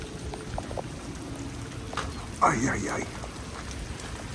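Heavy tropical rain pours down steadily in Vietnam, a dense, continuous hiss that swells briefly louder midway, with a short exclamation from a voice.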